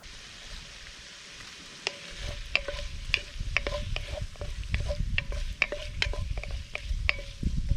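Andouille sausage frying in a pan with red peppers and mushrooms, a steady close sizzle broken by repeated sharp utensil clicks and scrapes as it is stirred.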